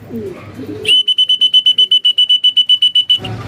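A piercing electronic alarm beeps rapidly and repeatedly for about two seconds, loud and close, with faint voices before and after.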